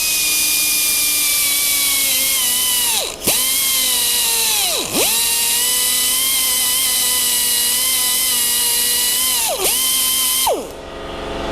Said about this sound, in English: So now we're going to have to drill those out a little bit.